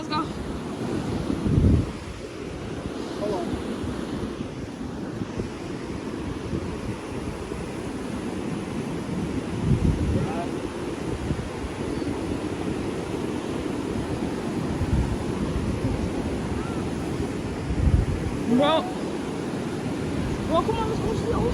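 Ocean waves and surf at Cocoa Beach, a continuous broad wash of breaking water with wind buffeting the microphone and periodic louder surges, heard fairly close and alone.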